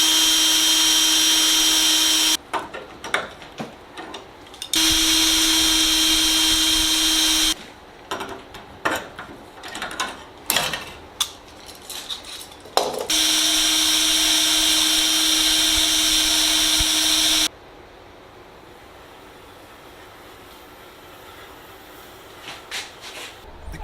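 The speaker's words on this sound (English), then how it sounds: "drill my first hole, and then put in a cleco" A power drill bores holes in Sonex aircraft tail cone parts, running in several loud sustained bursts of steady whine broken by clattering handling noises, ending in quieter background.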